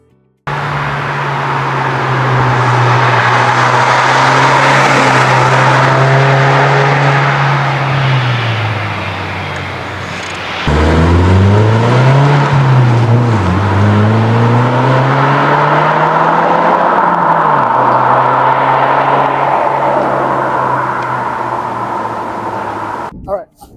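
A 2024 Subaru WRX TR engine drones and revs loudly and continuously under aggressive driving, pitch rising and falling as it shifts and accelerates, close to the microphone.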